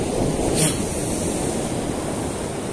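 Steady broadband wash of surf rolling in, a constant roaring hiss with a slight swell near the start, no voices.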